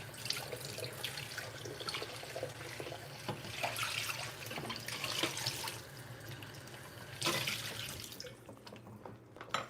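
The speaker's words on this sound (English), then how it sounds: "Do have to wash it, like give it a little bit of a rinse." Running water from a kitchen sink tap as food scraps are rinsed, a steady splashing flow with small drips and clatters throughout, fairly quiet and close.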